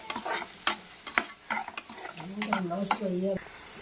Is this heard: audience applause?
no